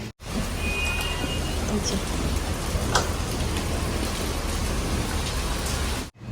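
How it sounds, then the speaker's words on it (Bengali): Steady, dense rain falls outdoors in a continuous broadband hiss, with a few faint drips and knocks scattered through it, cutting in and out abruptly. "বৃষ্টি হচ্ছে আর চিংটুকে দেখালাম সাতটা বাজছে"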